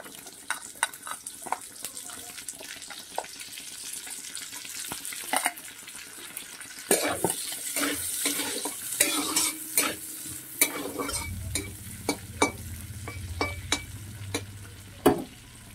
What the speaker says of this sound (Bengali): প্রথমে লম্বা লম্বা গাজর কেটে রেখেছিলাম সেগুলোকে দিয়ে দিচ্ছি, এগুলোকে একটু ভালো করে ভেজে নেব।